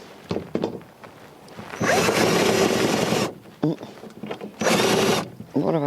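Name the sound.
power drill driving self-tapping screws into hoophouse tubing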